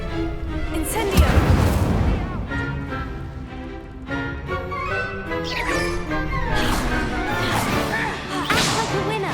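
Incendio fire spell cast in the video game Hogwarts Legacy, several sharp whip-like cracks and fiery whooshes with booming impacts, loud and repeated over layered game effects.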